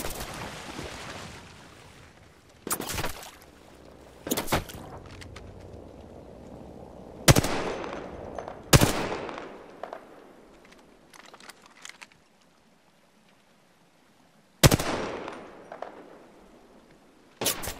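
Gunfire in the battle royale video game Apex Legends cracks out in sharp, separate bursts, around six loud hits spaced several seconds apart with quieter rumble and near-silence between them.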